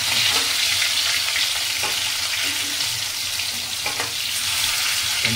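Bitter gourds fry and get stirred in a pan, a steady dense sizzle with soft scraping stir strokes throughout.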